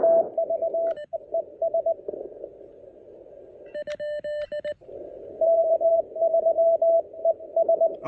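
Morse code sidetone from an Elecraft KX1 radio, a clear single-pitch tone keyed in rapid dots and dashes against faint receiver hiss, with a few higher tones briefly layered in partway through.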